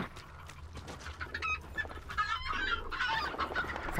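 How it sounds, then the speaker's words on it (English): Chickens cluck and squawk in the video game Hunt: Showdown, a nervous flock close by and growing louder, with overlapping calls over a low ambient hum. "Fucking chickens."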